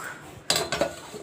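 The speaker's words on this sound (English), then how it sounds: "Cover it up and let the mutton cook" A metal lid set onto a cooking pot of mutton curry with tomato, a sharp clattering clink followed by a second rattling knock as it settles, close and brief.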